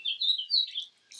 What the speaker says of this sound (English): every manly house finch uses his song to draw the eyes of females to his brilliant plumage.